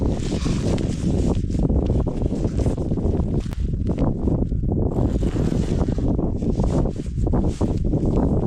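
Loud, cold gusting wind on a mountaintop at night batters the microphone in continuous waves, with rushing and flapping noise rising and falling throughout.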